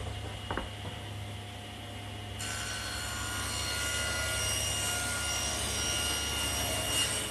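A table saw rips a wooden tabletop to width, a steady loud whining drone with a low motor hum that rises in brightness as the blade enters the wood and holds for several seconds.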